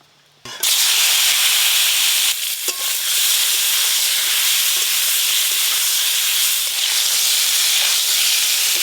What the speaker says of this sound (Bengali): বেগুন মহারানীর জন্য বেগুনগুলো ভালো করে ভেজে নেব।